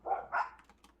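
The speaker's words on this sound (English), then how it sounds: "my dogs will bark" Dogs give two quick close barks in succession, followed by a few fainter yips, in a quiet indoor room with no talking.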